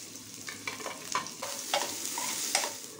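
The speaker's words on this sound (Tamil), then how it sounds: "வெங்காயம் சேர்த்து அது சீக்கிரமே வதங்கிறதுக்காக 1 பிஞ்ச் உப்பு சேர்த்து அதையும் வதக்கிக்கோங்க" Onions sauté with a pinch of salt and curry leaves for Chettinad chicken sukka, a soft, fairly quiet sizzle punctuated by several distinct spoon scrapes and taps.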